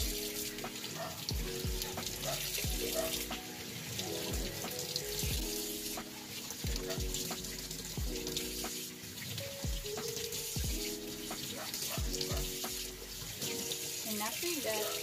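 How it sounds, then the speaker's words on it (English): Running faucet water rinses hands during a surgical scrub, a steady splashing flow with irregular drips and spatters. It is close and moderately loud, with no talking. "And now we will wash our hands or rinse."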